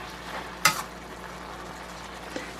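Venison stir-fry browning in a pan makes a steady, soft sizzle throughout, with a brief louder clatter of stirring early on and a small knock near the end.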